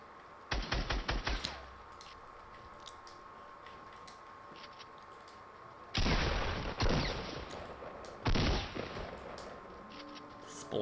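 Fortnite Battle Royale gunfire: a quick burst of rapid shots early on, then louder sustained fusillades around the middle and again near the end, with quieter ambient game sound between bursts.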